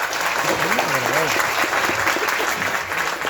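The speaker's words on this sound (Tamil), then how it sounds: "அண்ணாவோட விஷனை வந்து உருவாக்கின அம்மாவுக்கு வந்து ஒரு பெரிய கரகோஷம் கொடுத்தல எல்லாரும்" An audience at a Tamil film launch event breaks into dense, steady applause, a close, thick wash of clapping that fills the moment while a voice speaks over it.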